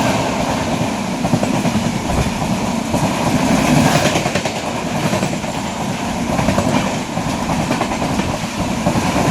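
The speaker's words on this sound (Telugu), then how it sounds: "ఇప్పుడే మన ట్రైన్ మసాయిపేట్ రైల్వే స్టేషన్లోకి వెళుతోంది." Train No. 17662 (Basara to Kachiguda) rolls into Masaipet railway station at night, a loud, continuous rumble of wheels with faint rhythmic clatter heard from on board.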